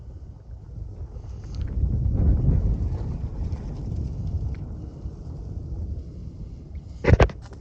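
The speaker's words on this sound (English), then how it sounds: "the wind's blowing a little bit" Wind blowing across an outdoor cemetery, a steady low rumbling buffet of air against the microphone that swells and eases, ending with a short sharp knock.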